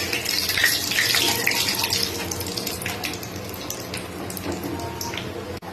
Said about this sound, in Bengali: ঘিটা গরম হয়ে গেলে গোটা এলাচ, দারচিনি, তেজপাতা সব তেলে দিয়ে দিলাম।